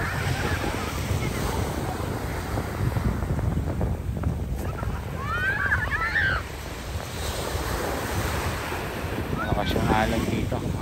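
Sea waves washing in at Manila Bay, a continuous broad surf wash with wind buffeting the microphone, while people talk and call out faintly in the background.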